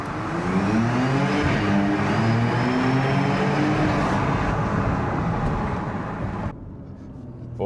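A Porsche GTS pulls hard under full acceleration, its engine note climbing loud and close through the revs before the power drops off abruptly near the end.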